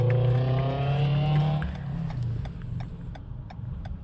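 A car in a driving-test area near a double-lane roundabout slows to a stop behind a white car, its engine hum falling away over about 1.5 seconds into a quieter idle with faint ticking.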